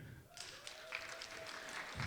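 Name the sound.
audience round of applause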